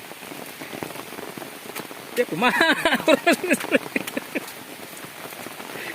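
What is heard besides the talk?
rain falling on umbrella during mountain hike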